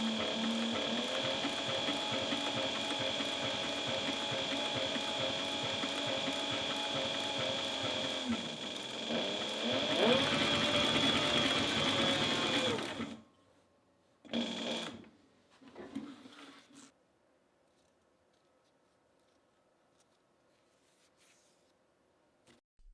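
A Cobra Class 20 sewing machine, freshly retimed with the needle bar height set, runs in a steady, loud mechanical whir for about thirteen seconds, then stops, followed by a few brief bursts of stitching and near silence.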